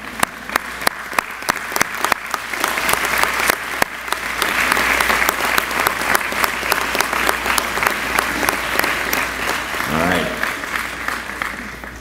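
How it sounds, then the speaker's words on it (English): Standing graduates at a 2016 commencement ceremony clap for their family and friends, with sustained, full-room applause and crowd noise that swells in the middle. A brief voice rises near the end. "So I'm going to ask the graduates to stand up and clap for your family and friends"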